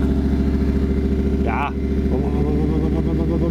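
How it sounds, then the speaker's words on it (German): Car engine idling, heard up close at the rear exhaust pipe, with a steady low burble reminiscent of an American V8 and a brief higher sound partway through; someone speaks a single word over it. "Und jetzt gehen wir hinten an den Auspuff. Ja, hier. Dann gehen wir ganz nah dran."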